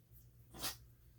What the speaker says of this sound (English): Chronic sneeze.